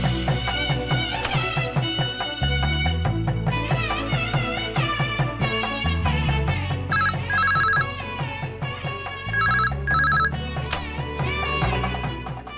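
A telephone rings in a domestic scene, with repeated bright electronic rings in clusters over loud, continuous music that dominates the scene.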